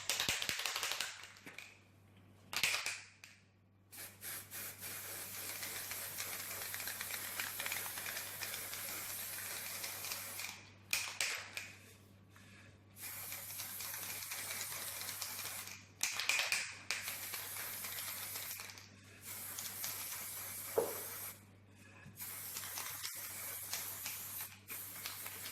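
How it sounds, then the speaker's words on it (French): Red velvet-effect spray applied to a vanilla mousse entremet in bursts of fine, steady hissing, broken by short pauses between passes, close and fairly quiet. "je vais venir mettre du spray avec effet velours. Donc là, je vais le mettre du spray rouge"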